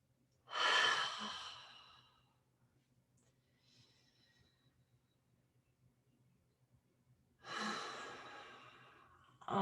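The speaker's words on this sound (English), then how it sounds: "2 big breaths here." Two deep breaths during a yoga spinal twist, each a long, close audible exhale or sigh several seconds apart, with quiet room tone in between and no talking.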